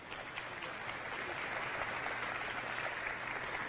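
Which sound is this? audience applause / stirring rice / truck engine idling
audience applause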